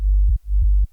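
Sidechained sub bass from a Reaktor preset, a deep sustained tone that ducks sharply twice in a pumping rhythm, loud and alone.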